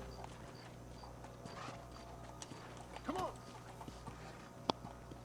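Horse hooves clip-clopping in the Red Dead Redemption video game, a few faint hoof steps set among low in-game ambience, with a sharp click near the end.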